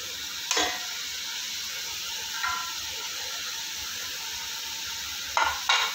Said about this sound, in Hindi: मटन कीमा को ना हम अच्छी तरह जो है ना ऑयल में भूनी देंगे